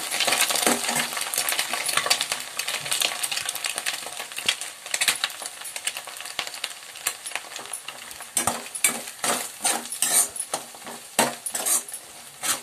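Green chillies are stirred into rice frying in a pan, a spoon scraping and clinking against the metal in quick irregular strokes over a soft sizzle, close and fairly loud, with no one speaking.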